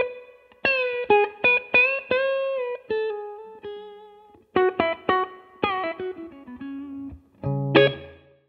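PRS SC 594 electric guitar played in a series of bright, ringing chords and single notes with sharp plucked attacks and gaps between phrases, loud and close, ending on a final strummed chord, with no talking.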